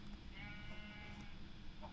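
Minecraft sheep bleating, one faint wavering bleat that rises over a soft background hum, quiet and brief.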